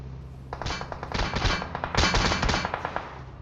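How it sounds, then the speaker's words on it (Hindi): Bursts of gunfire from PUBG Mobile, rapid overlapping shots and clanging impacts clustered into two loud volleys over a few seconds, close and dominant. "अब देखो मेरे पे चौड़ में फायरिंग की जाती है"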